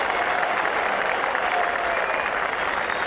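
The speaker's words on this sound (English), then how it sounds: "And warm applause from this large crowd here at Headingley." Warm applause from a large crowd at a Headingley cricket match, South Africa versus Australia, a dense, steady roar of clapping that holds loud and even throughout.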